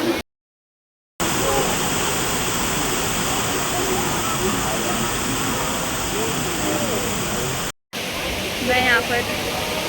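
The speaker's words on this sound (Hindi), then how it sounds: "वहाँ पे पूरा वाटरफॉल चल रहा है।" Domzira waterfall pours in a steady, dense rush of falling water heard from nearby, broken by brief silent gaps, with a faint voice at the end.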